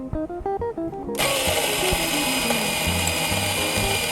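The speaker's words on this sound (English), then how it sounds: "the time it took to grind our 9 grams of coffee is 8 seconds" An iMix on-demand electric coffee grinder grinding 9 grams of coffee beans kicks on after a second of quieter clicking and tonal sounds, then whirs steadily and loudly with a harsh, broadband grinding buzz.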